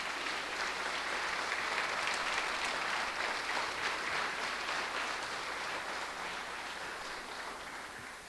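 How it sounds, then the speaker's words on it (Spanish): A church congregation bursts into loud, sustained applause that holds strong for several seconds and then slowly tapers off toward the end. "Puede darle un fuerte aplauso"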